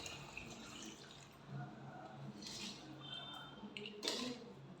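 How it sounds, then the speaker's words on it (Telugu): Water is poured into a cooking pot for sambar, giving faint splashing and trickling with a few brief louder splashes, recorded quietly up close. "నీళ్ళు అయితే పోసేసుకుంటున్నానండి"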